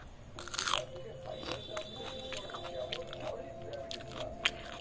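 Someone eating rumali roti with egg tarka made with chilli and onion, heard as close, soft biting and crunchy chewing sounds scattered over a low background murmur.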